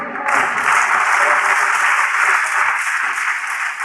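An audience at a sermon breaks into steady, sustained applause, many hands clapping together for several seconds with no voices over it.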